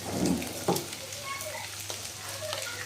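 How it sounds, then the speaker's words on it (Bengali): Onion stalks fry in a pan for a mixed-vegetable dish, heard as a close, continuous crackling sizzle with a few light stirring knocks. "এখানে আমি দিয়ে দিচ্ছি পেঁয়াজের কলি"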